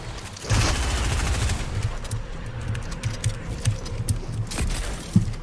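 Rifle fire in Fortnite crackles in rapid bursts of gunshots, dense at first and then sparser, with metallic clinks and scrapes mixed in and no voices.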